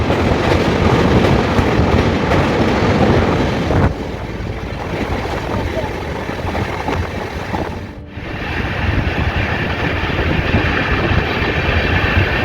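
South Bihar Express train running on rails between Champa and Rourkela near Raigarh, a loud, steady rumble and roar of wheels and carriage that dips briefly midway, heard close from on board with no talk.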